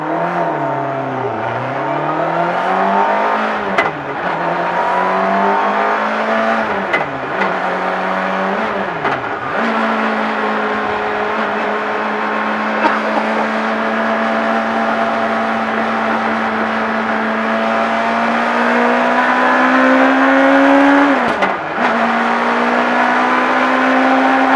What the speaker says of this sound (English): That downshifting is crazy. That is a crazy clunking sound.